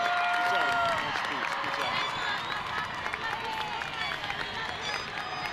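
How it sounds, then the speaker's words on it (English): A crowd at a high school graduation ceremony applauds the graduating class with a loud, dense wash of clapping and cheering. An announcer's voice carries over it. "let's give one more big round of applause for the class of"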